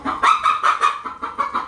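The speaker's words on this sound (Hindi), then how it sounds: "अच्छा देखिए दोस्तों यहाँ मुर्गी बैठी हुई" A hen settled down to lay an egg gives a run of close, moderately loud clucks in a steady, slightly uneven rhythm, with no talk over it.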